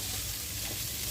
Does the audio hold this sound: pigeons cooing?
no